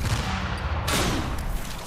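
Rapid gunfire from a weapon in Tribes 3: Rivals, a dense, steady rattle of shots that swells into a louder burst midway and keeps going to the end.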